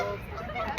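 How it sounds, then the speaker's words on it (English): Birds call excitedly during a solar eclipse, a short burst of honking, clucking fowl-like cries over a murmur of background chatter, fairly close. "The birds are going crazy."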